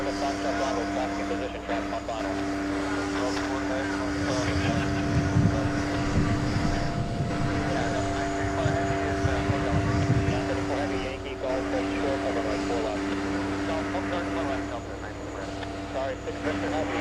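Jet engines roar steadily as an airliner lands at JFK airport, a broad rumble swelling in the middle and easing off, with a commentator talking throughout.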